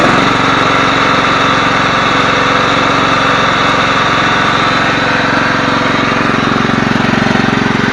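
A Yardman 15 hp riding lawn mower with a 42-inch deck idles steadily and loudly up close, a constant droning engine note with a fine rapid pulse and no talking.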